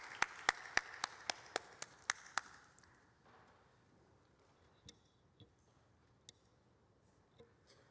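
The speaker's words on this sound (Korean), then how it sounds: "우리 샬롬과 함께 하나님께 영광의 박수 올려드리겠습니다." In a church, a congregation gives a brief round of clapping with strong, evenly spaced claps at first, then a quick fade leaving only a few scattered faint claps in a quiet room.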